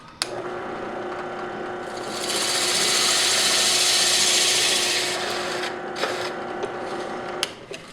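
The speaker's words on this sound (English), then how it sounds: "The hole is cut a few millimeters larger to accommodate any errors that might make during the drilling process." A rotary tool bores and enlarges the centre hole of a CD held in a jig, rising to a loud steady grinding whine for a few seconds, then stopping, with sharp clicks and handling noises before and after.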